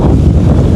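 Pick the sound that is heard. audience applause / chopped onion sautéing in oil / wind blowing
wind blowing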